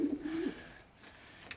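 A single low, throaty pigeon coo, close and brief, followed by faint background noise.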